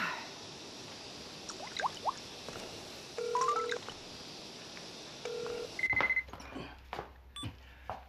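Push-button telephone dialing a call in a domestic TV drama scene, with a run of short electronic key tones, some held beeps and a final dial tone, then faint handset clicks, over quiet room ambience with no talk.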